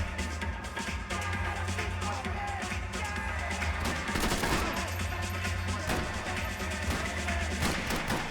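Gunfire in the Max Payne 3 video game rattles on continuously as dense, rapid bursts of shots over a low rumbling game backdrop, loud and sustained throughout with no pause.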